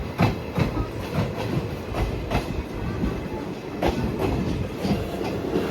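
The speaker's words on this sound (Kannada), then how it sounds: "ಟಿಪ್ಟೂರು ರೈಲ್ವೆ ಸ್ಟೇಷನ್ ಇಂದ ಹೊರಡ್ತಾ ಇದೆ" A train departing Tiptur railway station rolls along with a steady rhythmic clatter of wheels over rail joints, a continuous rumble underneath.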